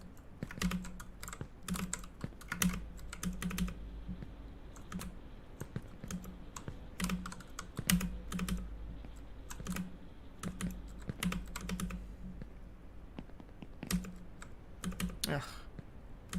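Computer keyboard typed on hard during a gaming session, giving steady bursts of close, loud clacking keystrokes with irregular rhythm throughout, with a faint low hum underneath.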